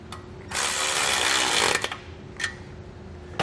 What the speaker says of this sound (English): and then we'll tighten it into place